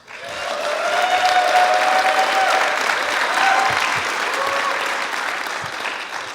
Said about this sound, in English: Big warm round of applause for Sam Jacques.